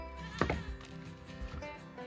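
A goat on a homestead gives a single loud, human-like bleat that sounds like a call for mom, followed by quieter rustling and faint knocks.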